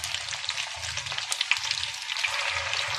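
Noodle pakora sizzling and frying in hot oil, a dense, steady crackling hiss up close with no talking, continuous throughout.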